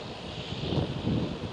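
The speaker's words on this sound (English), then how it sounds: "Next one to go is KLM 787-10." A KLM Boeing 787-10 jet departs from Amsterdam Schiphol, heard as a steady, broad engine roar with some wind buffeting on the microphone, fairly distant and uniform across a brief moment.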